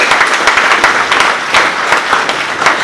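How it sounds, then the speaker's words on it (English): Audience at a Security First cyber security conference in Cape Town applauds speaker Richard Ford, a loud, dense wash of clapping that holds steady from start to finish. "give him a round of applause"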